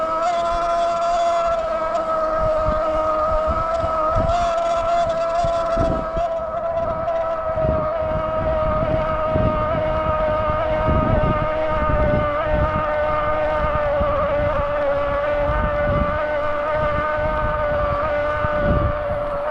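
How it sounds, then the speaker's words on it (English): Electric motor of a Himiway Rhino D5 Ultra e-bike under load on a steep, punchy climb, a steady high whine with harmonic layers over constant wind rumble and road noise throughout. "I'll let you listen to the motor as I come up to this last punchy section so you can hear it for yourself."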